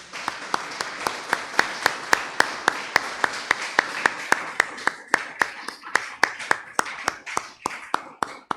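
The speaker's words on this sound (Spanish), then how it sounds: "Denle un aplauso al Señor" Church congregation clapping in unison, sharp rhythmic claps at a steady pace of roughly two per second, with a layer of looser scattered applause underneath that thins out toward the end.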